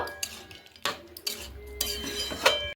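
A spoon scrapes and clinks against a pot while vegetable soup is stirred. The strokes come in short, irregular bursts, close and moderately loud, with brief pauses between them.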